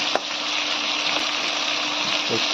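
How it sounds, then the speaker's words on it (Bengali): Brinjal frying in fish oil in a wok, a dense continuous close sizzle with an occasional faint clink of a utensil. "এটাকে আমি প্লেন জাস্ট ভাজা করছি, আর কিছু না।"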